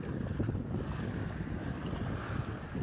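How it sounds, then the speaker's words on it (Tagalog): Strong sea wind buffets the microphone with a constant low rumble, with waves and open water audible beneath it. "May diri ang hangin sa dagat kay mura og bugnaw gyud ang simoy ba."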